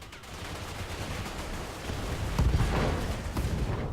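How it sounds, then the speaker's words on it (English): Machine guns firing in the BattleTech video game, a dense rattling barrage of rapid shots that swells louder toward the middle and stays continuous throughout, with no talking. "So the machine guns in BattleTech have been tuned to be a little"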